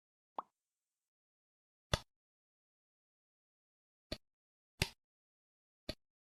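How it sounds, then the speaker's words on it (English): Dough is set down on a lightly floured work surface, making five separate soft plopping thuds spaced a second or two apart in an otherwise quiet room. "Place the dough on the lightly floured work surface."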